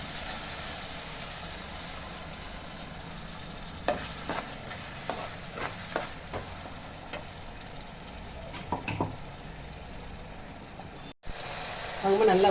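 Onions sautéing in a pan until golden, with a low steady sizzle and several sharp scrapes of stirring scattered throughout.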